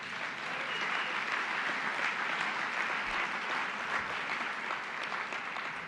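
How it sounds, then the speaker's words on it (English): Sustained applause from a conference audience at a closing luncheon of a national forum, dense steady clapping throughout with no speech. "If you all agree, please clap."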